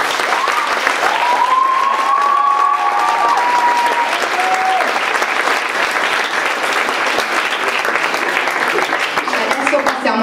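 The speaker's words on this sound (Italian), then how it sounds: "un applauso a tutti i ragazzi di Padova." Audience at the Premio Gaber 2014 event in Padova applauding, a dense, sustained wash of clapping from a crowd, with a voice speaking over the start.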